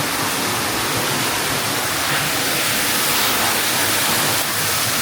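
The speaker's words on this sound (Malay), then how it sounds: "Walaupun kita sekarang berada di atas sungai." River water rushes steadily beneath a floating raft house on a river in Pahang or Terengganu, a loud continuous broadband flow with no pauses or voices.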